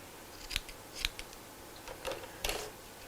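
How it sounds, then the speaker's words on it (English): Small scissors snipping sewing threads on a fabric tote bag strap: a few sharp, separate snips spaced irregularly, close and fairly quiet, with no speech. "then we'll cut off those threads at the end"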